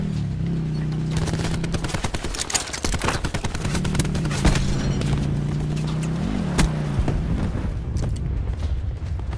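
A cluster grenade goes off in Black Ops 4 Blackout, and rapid gunfire and repeated explosive bursts crowd the whole stretch. They sound loud and near, over a steady tonal hum.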